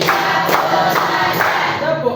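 Classroom clapping game, with hands striking in an even beat of about three crisp claps, roughly half a second apart, over chanting voices.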